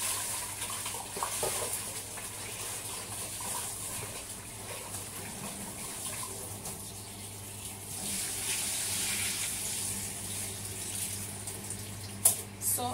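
A kitchen tap runs steadily while rice is washed in a small, cluttered kitchen, a low continuous rush with faint clinks and handling noises, and a brief knock near the end.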